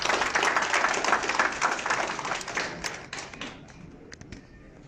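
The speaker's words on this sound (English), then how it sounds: "Let's give him a round of applause." An audience at an association's annual general meeting opening applauds, with a burst of dense clapping that gradually thins into scattered individual claps and fades out.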